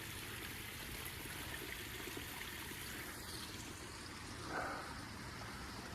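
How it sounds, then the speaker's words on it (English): Water trickles steadily from a concrete tunnel in a forest, a soft continuous broadband wash with little change, faint and even throughout. "That's where that water's coming from."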